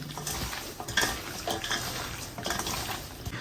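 A spicy pig ear salad tossed by hand in a bowl with chili oil, vinegar, sesame oil, soy sauce, cilantro and onion, producing wet squelching and light clinking scrapes in irregular bursts, close and fairly quiet.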